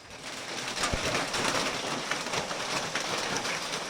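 Steady rain falls outdoors as an even, moderate hiss with scattered drip ticks and a faint bird call, and no voices.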